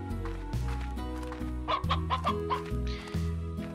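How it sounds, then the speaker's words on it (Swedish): Chickens and roosters in the Slime Rancher video game cluck in short repeated calls, with a steady tonal game music backdrop underneath, fairly close and clear. "Många tuppar nu."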